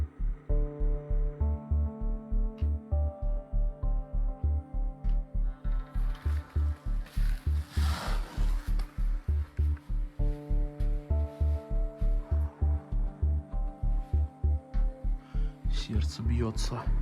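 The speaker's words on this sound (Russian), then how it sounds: "Сердце бьется." A steady, regular heartbeat thumps throughout, deep and rhythmic, with a faint tonal hum layered above it and a brief swell of noise near the middle, inside an abandoned, untouched house.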